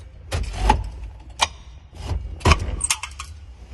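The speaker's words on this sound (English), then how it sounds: "First step is removing the ashtray." Close plastic clicks and clattering rattles come as a plastic ashtray is pulled from the dashboard of a Honda Acty. The bursts arrive in short, irregular knocks with quiet gaps between them.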